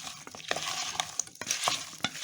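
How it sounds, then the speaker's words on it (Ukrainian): A green tomato salad is mixed in a bowl, with quick wet squelches and clinking utensil strokes in an irregular rhythm, close and moderately loud. "оце все потрібно перемішати"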